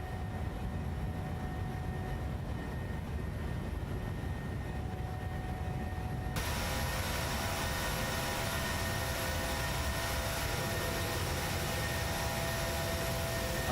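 Broadband engine and airflow roar of a PMDG 737 jet climbing out after takeoff in Microsoft Flight Simulator, steady and loud throughout, brightening and thickening partway through as the climb continues, with no voices.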